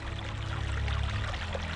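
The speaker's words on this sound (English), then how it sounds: "There is a spring running between the rocks." Spring water flows steadily between rocks in a continuous, full rushing babble, close and loud.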